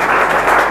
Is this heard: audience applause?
yes